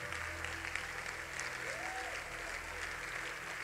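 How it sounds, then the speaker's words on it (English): A church congregation claps steadily and continuously during a prayer service, a dense wash of applause with a voice faintly audible underneath. "Everybody give the Lord a big, big clap offering."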